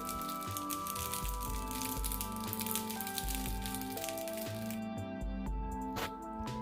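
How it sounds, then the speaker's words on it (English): Gluten-free vegan steaks frying in a lightly greased pan, a steady dense sizzle with small crackles throughout, close and continuous under a faint musical background. "Fry the steaks in a lightly greased pan."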